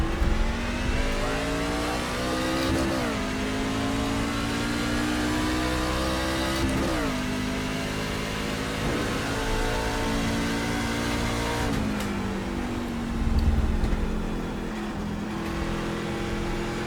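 Several stock-car engines in an iRacing NASCAR esports race at Phoenix accelerate hard on a restart, a loud, continuous roar with rising pitch sweeps as the cars shift up through the gears, swelling again near the end.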